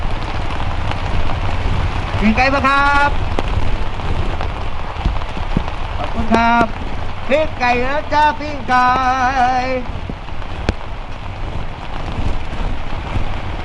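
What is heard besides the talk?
rain falling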